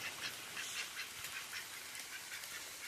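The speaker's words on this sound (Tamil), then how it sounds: "இந்த வாத்துங்கெல்லாம் இங்கிட்டு இருக்கு" Faint, distant quacking from a group of ducks, scattered calls over a soft outdoor hiss.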